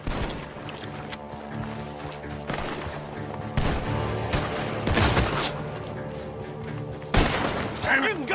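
Gunfire from a barn in the video game Red Dead Redemption 2, several sharp booming shots at irregular intervals over a dense game soundscape with voices talking.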